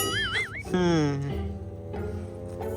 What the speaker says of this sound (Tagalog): Kasi meow siya ng meow.